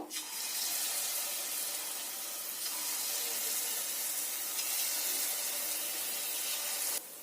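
Taal fritters (phuluri) fry in hot oil in a wok, giving a loud, steady broadband sizzle that runs unbroken for about seven seconds, with no voices.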